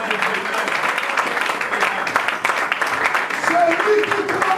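Church congregation applauding and cheering in praise of the Lord, a steady dense wash of clapping and voices filling the room throughout.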